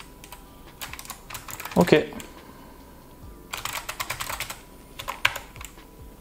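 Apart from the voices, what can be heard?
typing on a Logitech wireless computer keyboard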